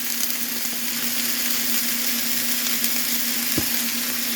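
Chicken and garlic sizzle steadily in a frying pan as they are stirred, giving a continuous close crackle with a faint scrape near the end and no talking.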